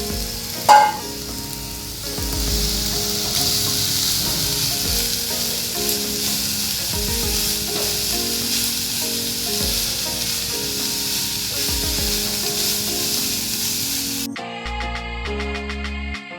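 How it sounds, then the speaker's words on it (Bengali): Grated carrots frying in a pan over a medium flame, a continuous close sizzle with a few scraping stirs and a sharp clatter near the start, ending abruptly. "গ্রেট করা গাজরগুলো দিয়ে দিতে হবে। দিয়ে মিডিয়াম ফ্লেমে ভালো করে এটাকে ভেজে নিতে হবে"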